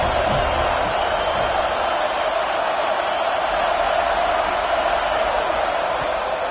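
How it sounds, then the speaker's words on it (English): A stadium crowd at a Clemson at Florida State college football game sends up a steady, loud wash of noise, and a broadcast commentator talks over it throughout. "This crowd bringing the energy and noise early."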